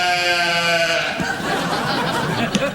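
A sheep on a late-night television talk show set lets out a close, wavering bleat, with light studio noise and a hint of laughter trailing after it.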